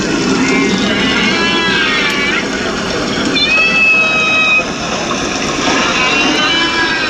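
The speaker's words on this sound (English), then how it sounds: "That is the sound of real dolphins." Real dolphins whistle and chirp underwater, picked up aboard the nuclear submarine USS Charlotte (SSN-766); rising and falling whistles layer over a steady dense hiss of background noise throughout.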